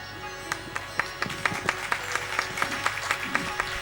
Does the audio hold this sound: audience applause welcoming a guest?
yes